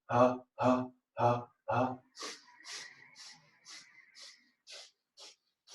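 During a yoga session, four strong, voiced breaths are pushed out through the mouth, followed by a series of softer, airy exhales at an even pace.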